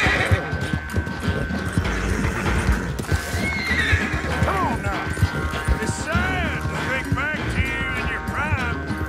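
Hooves clip-clop in a quick galloping rhythm as a horse neighs several times in Red Dead Redemption 2, with a voice talking faintly underneath.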